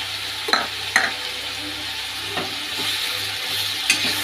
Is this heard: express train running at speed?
no